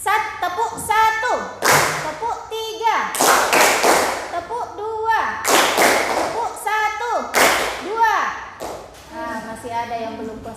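A group claps hands in a counting game led by an instructor, sharp bursts of several quick claps in uneven sets alternating with a voice calling out between them.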